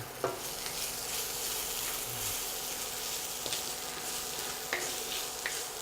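Steady hissing sizzle of curry leaves frying in hot oil, with occasional small pops and stirring scrapes, close and fairly quiet.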